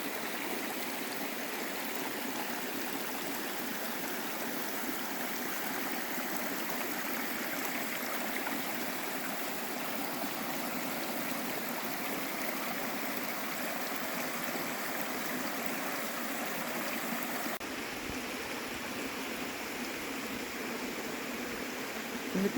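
Steady rushing of the Siniavka river flowing at Synjak, Zakarpattia, Ukraine, continuous and even, with a slight shift in tone near the end; no voices.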